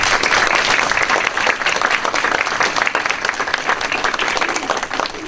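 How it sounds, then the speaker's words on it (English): An audience at a cancer survivor celebration applauds the survivors in the room, a dense, steady wash of many hands clapping at close range that holds for several seconds. "I'd like to give them a round of applause"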